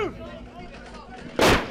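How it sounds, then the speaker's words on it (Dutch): A single loud artillery cannon shot bursts out near the end of a short documentary passage about Spanish troops firing on Utrecht, a sharp broadband blast following quieter background sound. "De Spanjaarden openen dikwijls het vuur."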